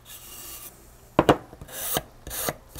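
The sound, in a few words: sanding a Garmin Force propeller edge with a sanding block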